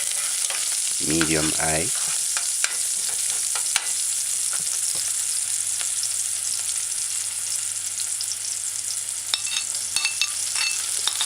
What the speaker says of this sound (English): Just kind of stir it in for a couple seconds.